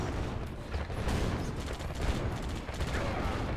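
Mirage tanks opening fire in Yuri's Revenge, a dense burst of overlapping shots and blasts rolling continuously, loud and busy with no talk.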